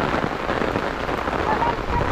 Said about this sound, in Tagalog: malakas nga yung ulan